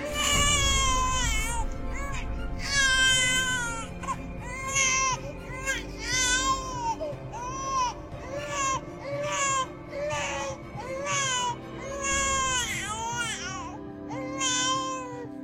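An infant wails in repeated high, strained bursts with brief gasping pauses between cries, loud and close, while voices murmur in the background.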